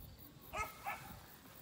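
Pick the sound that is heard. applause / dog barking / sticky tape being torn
dog barking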